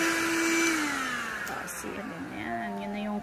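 A cordless vacuum cleaner whirs steadily at close range, its motor pitch dipping and shifting as it works, loud and continuous throughout.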